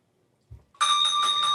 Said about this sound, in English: You downloaded a Bell app?